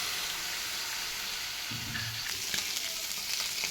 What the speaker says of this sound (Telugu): కొంచెం ఆయిల్ పోసుకొని ప్రాన్స్ వేయించుకోవాలి.